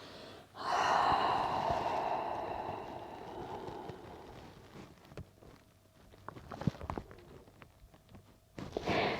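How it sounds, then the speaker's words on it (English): A long, breathy exhale through an open mouth during a yoga forward fold, close and clear at the start, then fading into quiet breathing and small movement sounds. "open your mouth here and exhale"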